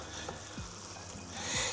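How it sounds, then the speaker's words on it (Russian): Steady sizzling and crackling of mushrooms frying in a pan, with a few soft scraping stirs near the end; no voices. "Так что теперь пускай жарится, время от времени помешиваем."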